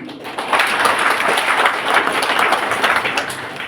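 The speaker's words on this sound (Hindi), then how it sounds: "मेरे हिसाब से आपकी तालियों के लिए काफी है ये लाइन।" An audience gives a dense burst of applause during a motivational speech, a sustained wash of many hands clapping that rises after a moment and holds steady until the end.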